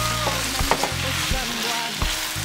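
Red peppers and tomatoes sautéing together in a pan, an even sizzle broken by a few spatula strokes and knocks, close and unaccompanied by speech.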